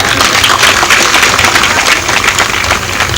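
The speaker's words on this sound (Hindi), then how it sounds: "तालियां ऐसी बजाओ अभी उनको भी और जोश आए" Loud, dense applause from an audience at a constitution literature conference, sustained steadily from start to finish and following a speech, with no voices rising above the clapping.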